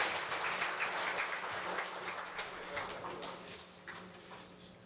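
Applause from an audience at a Korean labor culture award ceremony, a broad continuous clapping that fades gradually, fairly faint and distant in a hall.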